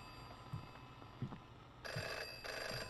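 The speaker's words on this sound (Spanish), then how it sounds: "Escucho un teléfono." Telephone ringing inside a video game, heard as two long electronic ring bursts late on, following a few faint knocks over a quiet background hum.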